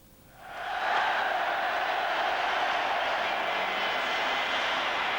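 A Wembley stadium crowd at an England v Albania football match welcomes the teams with a broad roar that swells within the first second and then holds steady at a distance.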